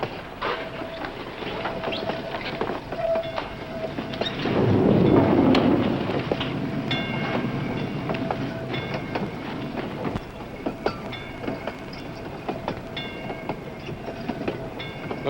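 A train rolls steadily on rails with a rumbling, rhythmic clatter, while rain and a roll of thunder swell briefly in the middle; no voices.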